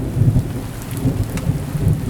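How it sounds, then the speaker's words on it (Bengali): A sudden rainstorm brings a low rolling rumble of thunder under a steady wash of rain, loud and continuous through the short stretch. "এ কি, হঠাৎ করে বৃষ্টি শুরু হলো যে?"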